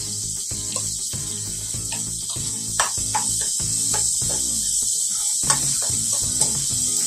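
Ginger, garlic, mint, coriander and green chilli paste sizzles in a hot pan with a constant bright hiss, broken by soft scraping clicks of stirring.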